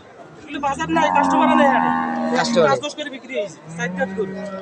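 A cow at a cattle market where dairy cows are sold gives one long, drawn-out moo in the middle, framed by shorter lowing calls, with people talking and crowd chatter around it.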